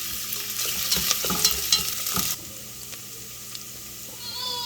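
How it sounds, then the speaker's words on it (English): Onions sauteing in a pot for Nigerian jollof rice, a loud sizzle with stirring scrapes for about two seconds, then a quieter steady frying hiss. "I'm gonna saute your onions for about 2 minutes"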